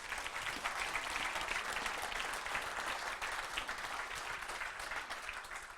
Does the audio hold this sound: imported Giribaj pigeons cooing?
no